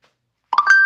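A phone gives a short burst of quick electronic beeps and a held tone while being switched to silent, close and fairly loud after a moment of silence.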